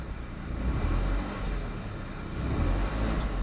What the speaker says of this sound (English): Let me just give it a bit of a rev.